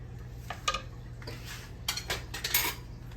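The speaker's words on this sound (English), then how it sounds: "We'll stir that in there." Macaroni being stirred into cheese sauce with a metal utensil, giving a few quiet scrapes and clinks against the pot in short bursts, close but soft.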